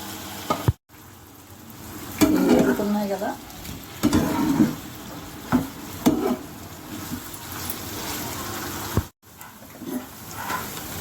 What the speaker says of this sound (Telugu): ఆయిల్ కాగిపోయింది కదా పోసి పెట్టుకున్న పన్నీర్ ముక్కలు వేస్తున్నాను